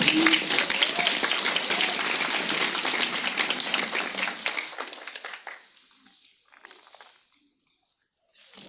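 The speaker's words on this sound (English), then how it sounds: "Let's give them another round of applause." Graduation ceremony audience in Namibia applauds graduates, dense clapping from a large crowd that holds for about five seconds, then thins to scattered claps and fades almost to silence, with a few last claps at the end.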